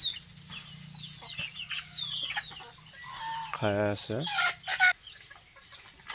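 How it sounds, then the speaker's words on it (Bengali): Several chickens cluck close by outdoors, with occasional louder squawks breaking through while someone talks and calls to them throughout. "এই যে একটা একটা করে বাড়াইতেছে মুরগিগুলা"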